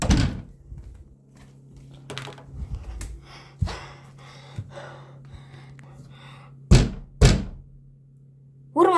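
A door slams shut during a Halloween scare indoors: two loud, close thuds land in quick succession near the end, among gasps, breathing and brief voices.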